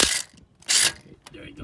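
A ratchet works a nut loose on the tie rod of a Volvo S80, giving two short, close bursts of rapid clicking separated by a brief pause.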